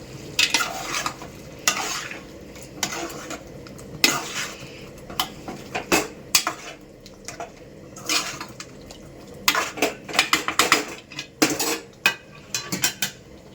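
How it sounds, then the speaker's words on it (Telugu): A spoon stirs chicken curry with chicken masala in a pot, giving repeated sharp scrapes and clinks against the metal in an irregular rhythm over a faint sizzle, close and without talk. "మళ్ళీ కలుపుకుందామా అయితే"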